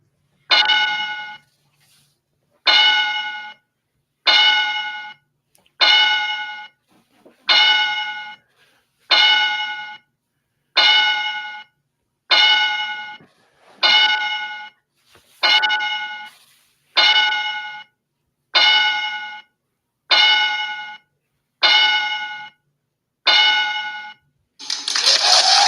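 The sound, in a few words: bell ringing fifteen times as a salute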